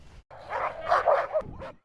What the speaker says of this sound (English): dog named Voi is a German Shepherd and Wolf mix